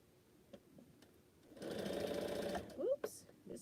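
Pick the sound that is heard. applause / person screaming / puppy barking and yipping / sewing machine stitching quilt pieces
sewing machine stitching quilt pieces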